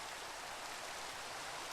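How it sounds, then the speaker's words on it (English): Steady hissing rain falls in the Minecraft Skyfactory world, an even, constant wash of noise, faint and unbroken with no other sounds. "Hey, it's raining over here in this..."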